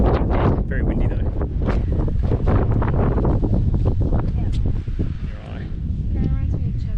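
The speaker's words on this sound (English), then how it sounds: "Very windy though." Strong gusting wind buffets the microphone with a heavy, roaring rush that rises and falls, while a person speaks underneath, near a campsite in Girraween National Park.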